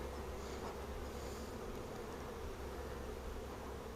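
A dense, steady swarm of honey bees hums continuously around an open Flow Hive, close and loud, with no talking.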